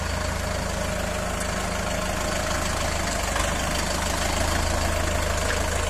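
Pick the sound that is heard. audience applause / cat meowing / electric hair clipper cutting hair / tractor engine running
tractor engine running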